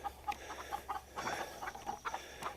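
Several chickens cluck and murmur nearby in an irregular, busy chatter, fairly quiet, with a low steady hum underneath.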